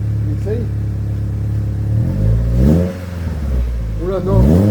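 A Peugeot 206 GT with a tuned exhaust, revving in rising and falling bursts over a steady idle, close and loud, while people talk over it.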